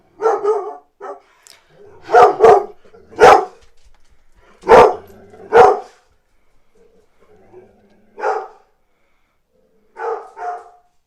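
Several dogs bark in short, loud bursts spaced across the scene, with some yips between, close to the listener and mostly alone with brief quiet gaps.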